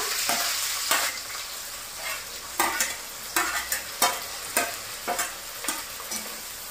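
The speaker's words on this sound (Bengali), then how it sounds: "পেঁয়াজটাকে আমি ভেজে নেবো।" Two onions fry in oil in a kadai, a constant close hiss punctuated by repeated rhythmic scrapes and clacks of a spatula tossing them, moderately loud with no talking.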